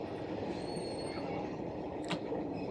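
A train rumbles past a railway crossing during a monsoon ride through Tamhini Ghat, a dense, continuous roar of wheels and carriages close by, with a brief metallic squeal partway through.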